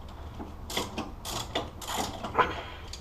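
Wrench working 14mm tension arm bolts on a Datsun 240Z front suspension, a few sharp ratcheting clicks and metallic creaks in short bursts, close by and fairly quiet.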